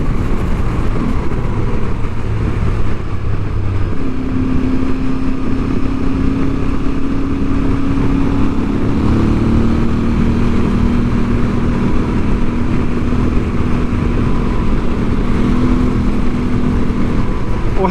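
Aprilia Tuareg 660 adventure motorcycle with a 21-inch front wheel and knobbly tyres, ridden along a dry, twisty road in North Wales; a steady engine drone and wind rush continue throughout, with the engine note rising and holding in the middle.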